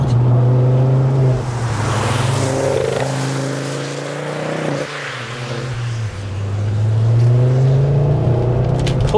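A Ford Focus ST MK2 hatchback accelerating on the road, its engine note rising steadily in pitch, easing off around a gear change, then climbing again, loud and close from inside the cabin with no talking.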